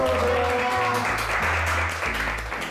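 A small group applauds as a teacher enters a classroom-style educational program, giving a short, close burst of clapping mixed with some background voices.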